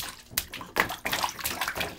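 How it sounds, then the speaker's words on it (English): Water splashes in a baby's bath in short, close bursts that slosh and spatter irregularly, with no clear talking. "lots of water splashed on mommy"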